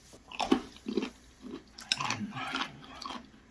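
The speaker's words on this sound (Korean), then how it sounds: "얘네들이 얼마나 탄탄한지 이렇게 입을 다물고 씹는데도 소리가 난다니까" Close, crunchy chewing of firm abalone with a steady rhythm of bites, the mouth kept closed, with no talking.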